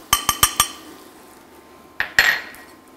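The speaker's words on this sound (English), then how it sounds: "And I'm gonna stir that up because it combines really easily with cold liquid" A spoon stirs arrowroot starch into beef broth for keto beef tips and gravy, making four quick metallic clinks against the container, a short pause, then two more clinks with a brief scrape.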